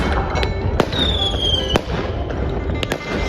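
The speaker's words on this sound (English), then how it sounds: "As I was about to leave, I heard some fireworks." Chinese New Year fireworks go off in the distance in Jiujiang, China: several sharp bangs and cracks, one with a rising whistle, over a low background rumble.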